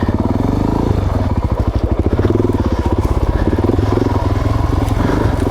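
Suzuki DRZ 400 dual sport motorcycle on a tight single track trail switchback in Idaho, its single-cylinder engine chugging loud and close in a steady rapid pulse, with brief clatter.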